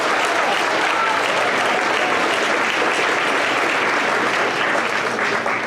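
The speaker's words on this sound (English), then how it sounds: "big round of applause to Doug Hurst." An audience at a parent meeting for a 2023 Hawaii trip gives a sustained, dense round of applause, loud and steady throughout with no pause.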